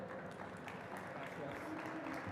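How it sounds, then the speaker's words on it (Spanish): An audience gives a soft, steady round of applause to welcome a speaker at a climate adaptation conference, a continuous faint patter of clapping lasting a couple of seconds. "Recibámoslos con un aplauso."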